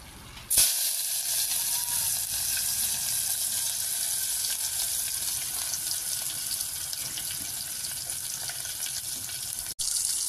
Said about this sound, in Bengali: আমার তৈলগুলো গরম হয়ে গেছে, এখন আমি দিয়ে দিব তেজপাতা, এলাচি, দারচিনি